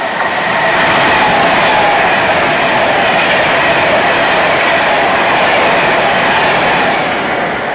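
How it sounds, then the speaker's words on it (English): A Pendolino train rushes past close by on the Derby line, a steady loud rumble and rush of wheels and air holding for several seconds with no voices. "There goes the Pendolino. So I'll keep quiet for a second while this goes past."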